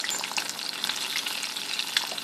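Eggs frying in a seasoned pan, giving a steady close-up sizzle with crackling, sputtering pops and no talk.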